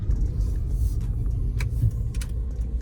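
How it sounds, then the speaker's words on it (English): A used car from a dealer accelerating on a test drive, engine rumble steady and close with a few faint clicks and rattles inside the cabin. "Let's do some illegal maneuvers in a car we don't own."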